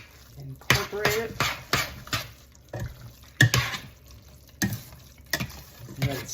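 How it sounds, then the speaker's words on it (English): A creamy scallop and spinach pasta mixture stirred vigorously, with wet squelching and sharp utensil knocks against the dish in irregular strokes, close by. "now we're going to mix it up real well"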